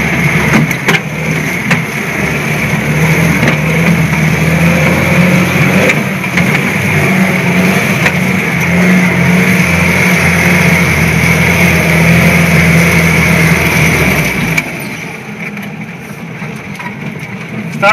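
A UAZ off-road vehicle drives along a rough, potholed track, its engine droning loud and steady close by with knocks and rattles from the body, then cutting off abruptly near the end.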